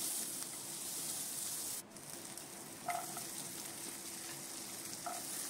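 Chopped onion frying in a pan, a steady, even sizzle with a brief dip and a few soft clinks of a utensil.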